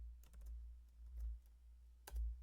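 Clicks from a computer keyboard while an Excel formula is typed: a few quick keystrokes in small bursts, then a couple of firmer taps near the end, close by and fairly quiet.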